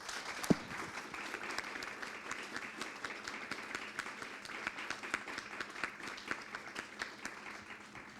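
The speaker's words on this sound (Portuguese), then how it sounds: "gostaria de aplausos, então, para os nossos panelistas" A room full of audience members claps for the panelists at the close of a discussion event on asthma, a dense, steady patter of applause lasting several seconds at moderate distance, with no talk.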